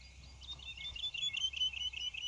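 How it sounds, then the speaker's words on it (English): A recorded woodlark's song of rapid repeated high notes, descending in a run of clear beeps, fairly faint over a quiet low hum. "So it's that beep beep beep beep beep beep beep beep, and that is textbook woodlark."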